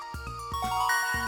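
A short musical level-up jingle from the Stardew Valley farming game, a rising run of bright synthesized tones lasting about a second, clear and alone.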